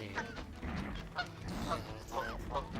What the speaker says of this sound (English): Oh, I'm a goose.